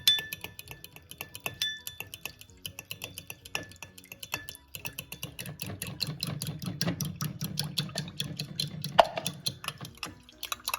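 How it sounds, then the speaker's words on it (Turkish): Egg yolk whisked with lemon in a bowl gives a rapid, steady metallic ticking and clinking of the whisk against the bowl, continuous and close, growing busier and fuller partway through. "şöyle yumurtayı biraz sarısını çırpıyorum. Ve limonu şöyle yavaş yavaş içerisine ilave ediyorum"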